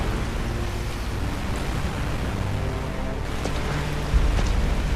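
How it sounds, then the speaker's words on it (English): Steady rain from the video game Resident Evil: Revelations pours as a dense, continuous hiss with a faint low rumble underneath, with no voices present. "Jill, step out into the rain for me."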